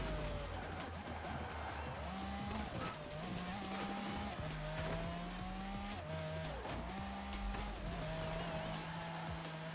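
A Pagani Zonda R races in the Forza Horizon 4 video game, its engine roaring steadily and climbing in pitch through repeated gear shifts, with tire squeal mixed in throughout.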